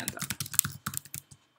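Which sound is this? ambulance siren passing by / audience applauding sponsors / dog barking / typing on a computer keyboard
typing on a computer keyboard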